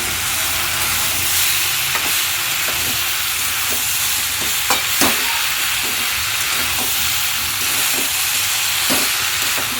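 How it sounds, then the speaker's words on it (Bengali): Fried fish being stirred with vegetables in a hot pan, giving a steady loud sizzle and hiss throughout, with irregular scraping clicks of the stirring utensil and no talking. "ভাজা মাছগুলোর সঙ্গে সবজির সঙ্গে খুব ভালোভাবে মিশিয়ে নেব।"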